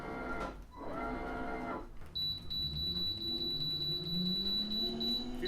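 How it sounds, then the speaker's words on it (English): A Minn Kota trolling motor beeps while pairing its remote, a thin high steady tone pulsing over background hum and some distant voices. "She made some beeping sounds."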